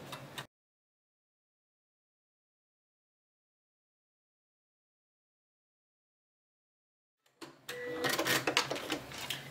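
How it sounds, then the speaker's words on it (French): A sewing machine stitches through recycled denim and clear vinyl for a pouch: a brief burst at the start, long silence, then a fast, close mechanical run of stitching at the end. "je commence à faire une petite couture dessus pour que le point d'arrêt soit joli sur mon coupon"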